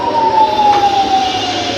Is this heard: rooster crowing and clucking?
no